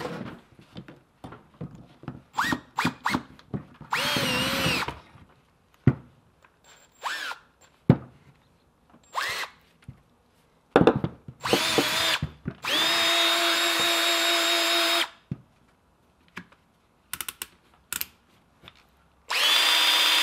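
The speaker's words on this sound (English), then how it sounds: "you would chuck it into a drill and turn your drill into a hedge trimmer" An electric drill spins an old hand-chucked hedge trimmer attachment, whirring in several bursts of varying length, some long and steady, separated by clicks, clunks and handling noise.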